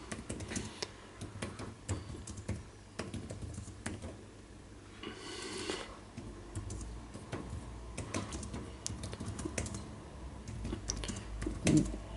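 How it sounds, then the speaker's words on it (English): Typing on the keyboard of a Remix Ultra tablet running Remix OS, a quiet, close stream of light irregular key taps with brief pauses and a short rustle partway through. "Let's just type something in."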